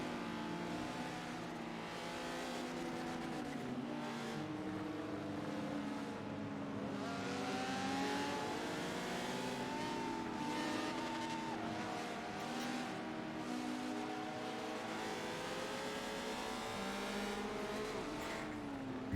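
A B-class race car in the Forza racing game at Lime Rock, its engine droning steadily and then revving and accelerating, with shifting pitch and occasional tire noise, loud and continuous with no talking.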